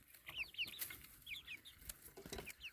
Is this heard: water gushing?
no